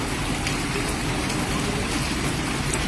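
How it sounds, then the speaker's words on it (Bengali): Heavy rain pours down over a football ground during a tournament match, a dense, constant hiss of drops close by and loud, with no voices over it. "মুষলধারে বৃষ্টি হচ্ছে, তারপরে কিন্তু খেলা বন্ধ নাই।"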